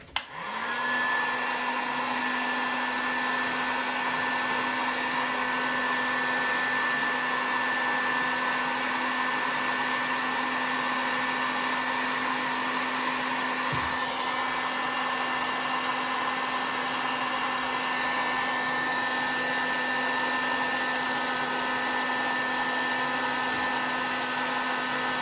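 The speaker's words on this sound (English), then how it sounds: "use a heat gun to heat up the pads we will solder to" A heat gun heats solder pads on a 2011 MacBook Pro A1286 logic board, giving a steady, even blowing whine that runs alone and unbroken from start to finish.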